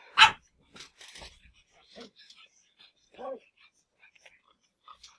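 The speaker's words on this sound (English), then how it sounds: "sorry, dogs are barking." Dogs barking in a home, a sharp loud bark at the start followed by several softer, scattered barks and yips at varying distances, with quiet gaps between.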